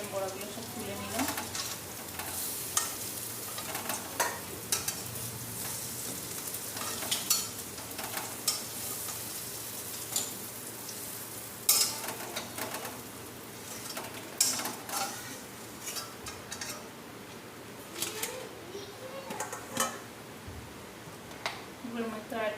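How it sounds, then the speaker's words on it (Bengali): Fried fritters (bora) are stirred and lifted one by one from hot oil, with soft sizzling under repeated scraping and clinks of a utensil against the pan, close and fairly quiet. "বড়াগুলো আমার ভাজা হয়ে গেছে, এক এক করে বড়াগুলো সব তুলে নিলাম।"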